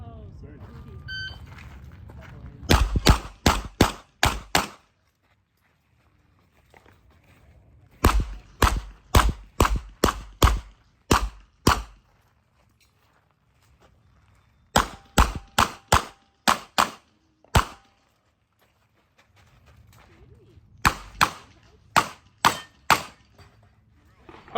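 Revolver shots fired in quick bursts at an open-division revolver shooting competition, sharp loud cracks in four strings of about five to six rapid shots each, separated by quiet reloading pauses with faint range sounds.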